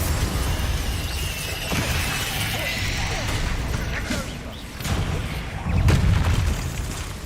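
Booming spell blasts from the Bombarda curse in Hogwarts Legacy, several heavy thuds and crashes in a dense game battle mix, with another louder burst near the end amid continuous rumbling effects.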